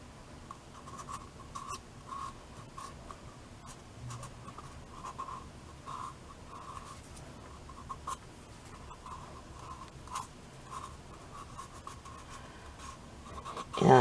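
Sandpaper rubbed by hand around a plastic pill bottle, producing soft, repeated scratchy strokes in an uneven rhythm, close and fairly quiet, with no talking.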